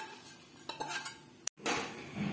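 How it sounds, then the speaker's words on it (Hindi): Hot onion tempering poured over Punjabi-style karhi pakora in a pan, a brief burst of sizzling with metal spoon clinks, close and fairly quiet. "ये देखें मैंने तड़का ऊपर डाल दिया"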